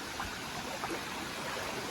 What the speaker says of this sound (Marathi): त्या घराच्या खालतून जो व्हाळ वावता